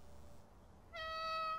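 A cat in the video game Calico gives a short, clear meow after a brief quiet moment.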